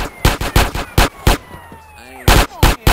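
Sharp, loud gunshots in Grand Theft Auto San Andreas, fired in quick bursts of four then two, with a pause between and three more at the end, close and punchy over faint background game sound.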